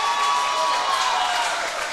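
Spectators at a swimming championship applaud and cheer in a dense, continuous roar that fills the venue, with a commentator talking over it.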